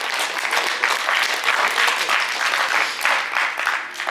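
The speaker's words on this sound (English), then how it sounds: "Give her another round of applause." Applause from an audience at a Fairfield, Kansas high school post prom in 2022, a dense, steady crowd clapping that stays loud and continuous throughout.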